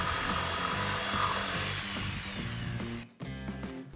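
A power tool cuts 2x4 wooden rafters, a loud continuous whining buzz that abruptly drops off near the end and then restarts.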